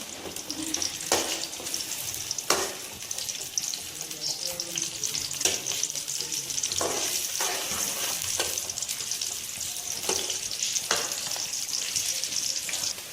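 Steady sizzling of onions frying golden brown in a pan, with periodic scraping clatters of a spoon stirring every second or two.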